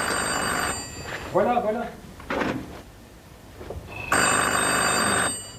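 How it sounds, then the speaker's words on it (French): A telephone bell rings in two loud bursts at the start and end, with a person speaking briefly in between. "Mais je crois que le téléphone..."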